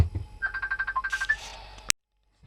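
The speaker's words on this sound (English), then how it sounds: "Sorry about phone call." A phone ringtone plays a rapid run of repeated electronic beeps for about one and a half seconds during a home-brew beer tasting. It stops abruptly and is followed by silence.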